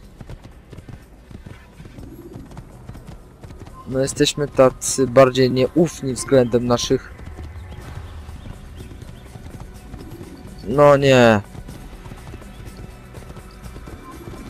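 A horse in the Assassin's Creed video game, with brisk clip-clop hoof bursts and a whinny-like cry over steady game ambience, while someone talks in Polish between the bursts.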